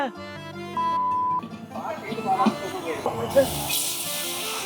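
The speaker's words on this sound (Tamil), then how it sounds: "எண்ணெய்க்கு மேல தண்ணி ஊத்தி போட்டு" A sharp sizzling hiss as water is poured onto hot oil while cooking mutton biryani, rising over a tonal hum and mixed voices, then a broad steady spitting hiss.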